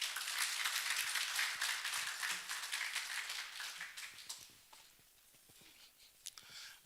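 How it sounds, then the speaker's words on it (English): An audience at a graduation ceremony for a global health leadership fellowship applauds with steady, fairly soft clapping that thins out and fades after about four seconds, leaving a few scattered claps. "Big round of applause, please, for Jibril."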